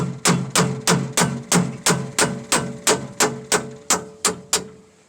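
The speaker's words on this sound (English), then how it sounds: "But I like to take a hammer and break them free." A hammer strikes metal in a steady rhythm, tapping bolts loose on an F-150 universal joint, about a dozen sharp, ringing taps close up, each decaying quickly before the next.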